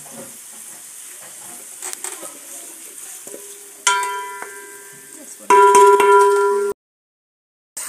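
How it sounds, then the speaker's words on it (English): Onions frying in hot oil in a pot during village outdoor cooking: a steady low crackling sizzle, with a louder burst of frying and ringing tones late in the clip before it cuts to silence. "How our onions have turned translucent."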